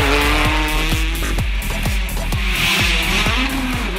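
Peugeot 208 T16 rally car at full throttle, engine revving hard through rapid upshifts and downshifts with the rise and fall of each gear, heard close and loud, with tire squeal mixed in.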